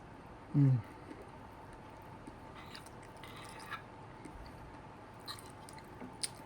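Someone eats a bite of seafood quiche with shrimp and jalapenos, making quiet, soft chewing sounds close to the mic, with one brief louder bite near the start and a faint background hum.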